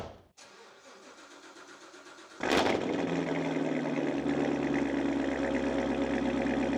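A Chevrolet Corvette C7 Z06 with a ported Tony Mamo throttle body cranks and fires up with a sharp burst, then settles into a steady, deep idle rumble close by.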